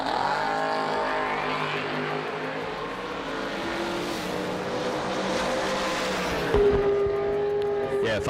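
Drag race cars at an ACE Triple 20K event, including a Fuel Factory Chevrolet Camaro, roar loudly and continuously with dense engine noise, the pitch shifting near the end as they pass, while an announcer's voice runs underneath.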